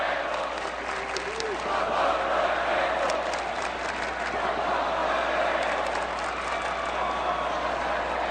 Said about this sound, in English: Got a little "Let's Go Vandals" chant going.